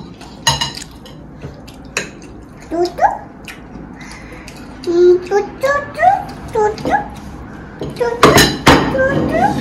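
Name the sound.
spoon clinking on dish as child eats pasta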